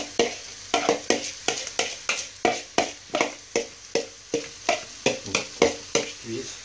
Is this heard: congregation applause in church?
no